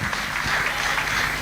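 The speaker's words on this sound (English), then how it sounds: "If you want to clap, you can do it much bigger for him." Dense, steady applause from an audience at a Young Africa Innovates Programme event in Akwa Ibom State, with many hands clapping together at a fairly loud, even level throughout.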